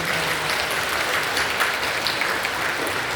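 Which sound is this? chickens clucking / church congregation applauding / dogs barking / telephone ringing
church congregation applauding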